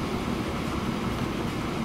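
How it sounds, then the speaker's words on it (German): A train leaves a station in the video game Transport Fever, giving a steady, dense rumble of rolling wagons throughout, fairly loud with no talk. "Du verlässt gerade einen Bahnhof."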